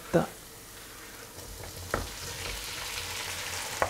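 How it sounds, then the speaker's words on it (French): Vegetables with garlic sizzle steadily in a hot pan while chopped tomatoes are tipped in, with a couple of spoon knocks and stirring scrapes over the soft continuous frying hiss. "On fait revenir pendant à peu près 3-4 minutes. On va rajouter maintenant les tomates."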